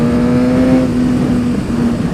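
Kawasaki ZX6R motorcycle engine holding a loud, steady rev at close range with a sustained drone, its aftermarket exhaust note running on without clear separate pops.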